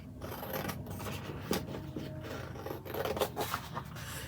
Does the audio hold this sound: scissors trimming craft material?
yes